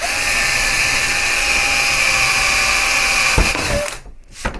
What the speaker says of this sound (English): drill a pilot hole for the door as well.